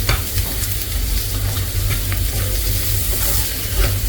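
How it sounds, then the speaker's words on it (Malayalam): Onions sizzle and fry steadily in a pan while a stuffed squid dish is cooked, a dense close hiss with occasional stirring crackles and no talk. "ഉള്ളി നമുക്കൊന്ന് നന്നായിട്ട് വേവിച്ചെടുക്കാം"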